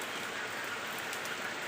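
Rain falls in a steady, soft hiss of dense drops, faint and continuous, with no voices.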